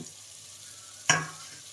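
Boiled, cut eggs drop into a pan of sizzling egg curry, a single sharp splash and hiss that fades over a quiet background crackle of frying oil.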